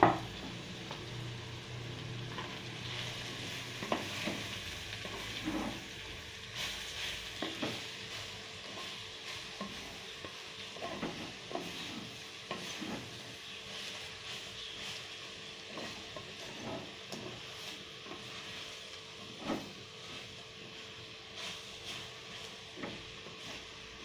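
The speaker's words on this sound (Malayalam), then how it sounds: "ഈ കൂട്ടിയൊക്കെ ഇട്ട് നമുക്ക് ചതച്ച് വെച്ചിരിക്കുന്ന ചക്ക ഇട്ട് കൊടുക്കാം." Crushed tender jackfruit stir-frying in a pan for Kerala jackfruit thoran, a steady soft sizzle throughout with repeated scraping and stirring clicks of a spoon, close by and without talk.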